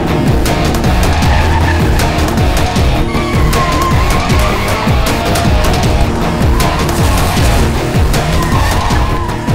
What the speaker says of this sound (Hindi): कार इतनी स्पीड में क्यों चला रहा है?